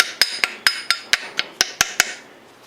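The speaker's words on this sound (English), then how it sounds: "Sorry, I need to grab a hammer." Sharp metallic hammer strikes driving a pin into a Star Model B pistol during reassembly, about ten evenly spaced taps in under three seconds, close and clear with no talking.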